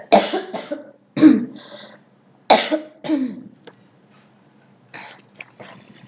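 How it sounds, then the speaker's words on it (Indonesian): A person coughs in several sharp bursts during a spoken lesson, with short gaps of quiet between the coughs, close to the microphone and fairly loud. "Maaf nak batuk dulu ya."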